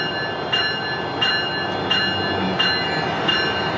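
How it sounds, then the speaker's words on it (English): Train locomotive pulling away after its brake is released, a steady loud rumble with rhythmic wheel clacks repeating roughly every 0.7 seconds and a faint high whine, no voices. "The engineer released the brake, and the locomotive is taking off."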